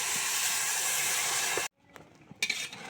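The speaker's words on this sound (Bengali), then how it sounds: "এখন আমি এর মধ্যে আগে থেকে গরম করে রাখা পানি দিয়ে দিব" Pre-heated water poured onto fried rice grains in a hot pot gives a loud, continuous steam hiss that cuts off abruptly, leaving quieter clinks and a brief renewed sizzle.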